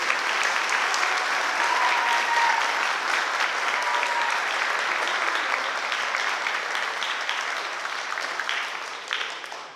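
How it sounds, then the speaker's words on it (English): Sustained audience applause for senior award recipients at a high school ceremony, dense steady clapping from a large crowd that slowly fades toward the end. "Can we just give one more round of applause for all of our recipients today?"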